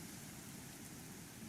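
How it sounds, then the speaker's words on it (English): Rain from scattered showers in a whale video game, a steady hissing patter with no breaks, soft and distant-sounding throughout. "Scattered showers are currently moving through the area."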